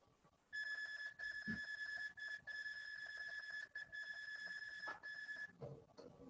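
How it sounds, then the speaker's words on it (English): Alarm beeping in a penicillin production VR training simulation, a steady high electronic tone sounding in long repeated pulses with short gaps, loud and alone. "the alarm is a bit annoying"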